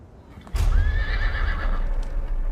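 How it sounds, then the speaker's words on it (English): A wild horse in a desert canyon lets out a loud, close, drawn-out whinny lasting about two seconds, its high wavering cry over a low rumble, with no talking. "Seeing those wild horses,"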